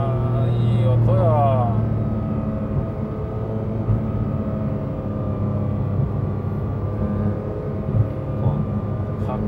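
Inside a used Porsche 911 (Type 991) GT3 RS on the move, the engine holds a steady, droning hum with a brief rising rev early on, while people talk over it.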